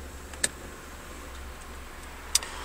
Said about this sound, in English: You can hear the compressor click in